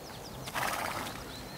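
A horse whinnies once in a short, faint burst over quiet background, with faint chirping around it, heard in a dubbed animated story.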